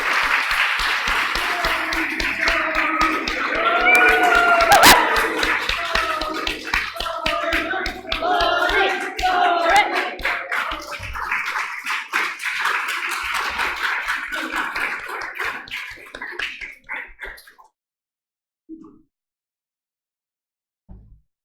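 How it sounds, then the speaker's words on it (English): A theater audience at a farewell comedy storytelling evening claps in a dense, sustained round of applause with some cheering, building then thinning out to scattered claps before silence. "Big honking round of applause for Lori."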